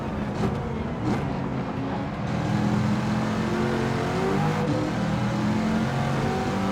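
Ferrari F430 GT2 race car in Gran Turismo 7 accelerating through the gears during an endurance race, a steady loud engine drone with rising harmonics and no voices.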